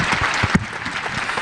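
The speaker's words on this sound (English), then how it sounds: "A round of applause for our fantastic Kickstream team." Brief, loud burst of audience clapping for the Kickstream team at a business keynote event, a dense crowd applause filling the whole moment.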